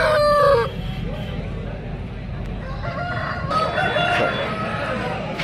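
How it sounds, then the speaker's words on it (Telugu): A large rooster at a poultry market crows loudly and close by at the start, followed by further crowing and clucking from other birds amid market bustle and people talking. "ఈ పరదరం మార్కెట్లోనే పెద్ద పుంజు ఇది"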